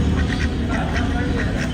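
Ducks quack in a steady run of short nasal calls close by, the birds kept at a home in Pakistan, with a faint hum of background noise underneath.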